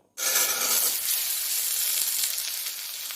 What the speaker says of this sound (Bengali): এরপর আমি আলুগুলো দিয়ে ভালো করে ভেজে নেব।